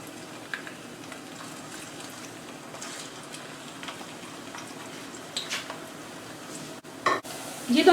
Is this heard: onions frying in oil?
yes